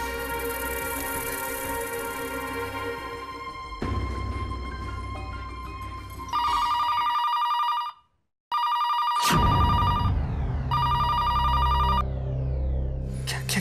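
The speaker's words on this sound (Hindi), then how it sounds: "पता नहीं कोई फोन क्यों नहीं उठा रहा है" A telephone rings on and on unanswered, a continuous electronic ringing tone with a short silent break partway through and some background sound beneath.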